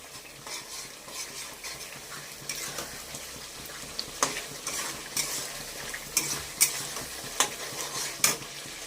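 Potatoes and paneer are tipped into a pan of fried-down masala for a cauliflower paneer curry and stirred, giving a steady sizzle broken by sharp spoon scrapes and clinks that grow louder toward the end, with no talking.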